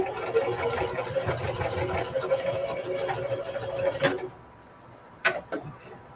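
A sewing machine stitching a blue jean jacket whirs steadily for about four seconds, then stops, followed by a few sharp clicks and handling sounds in the quiet.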